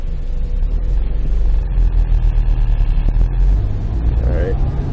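Manual transmission car pulling away in first gear, its engine a loud, steady low rumble from inside the cabin as the revs rise slightly, with a voice briefly audible.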